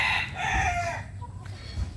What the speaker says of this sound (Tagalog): Ito magwapong manok, pero hindi sa akin.